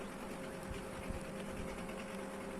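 A sewing machine stitching the round neck of a blouse, running in a fairly quiet, continuous whirring rattle at a steady pace with no pauses.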